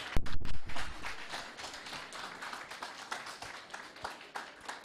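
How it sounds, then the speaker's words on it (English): Audience applause at a conference event on nature and climate action, a dense sustained patter of many hands clapping, strongest at the start and then continuing steadily at a slightly lower level. "Let's give it a clap."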